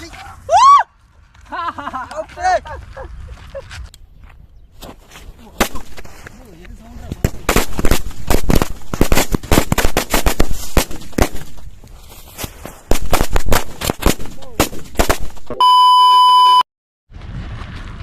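Firecrackers being tested burst in a rapid string of sharp loud cracks, with talking before them and electronic beeps near the end.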